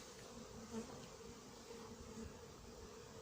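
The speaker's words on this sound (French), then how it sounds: "Frelon en approche." A hornet flying in near beehives, a steady buzzing drone with other bees and insects humming softly in the background.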